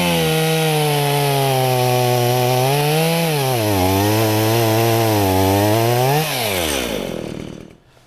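A chainsaw fitted with a chain sharpened on a Stihl tool cuts through wood, running loud and close with a steady roar that dips and rises under load, then winds down and stops.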